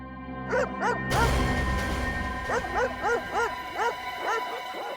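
Several dogs bark and yip from somewhere behind the scene, a run of rhythmic high barks in quick pairs and threes over a steady background drone, with no talk.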